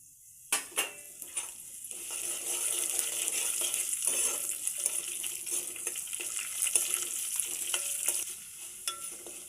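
Moong dal and dried red chillies fry in a pan, a steady high sizzle interrupted by sharp knocks and scrapes of a spatula stirring.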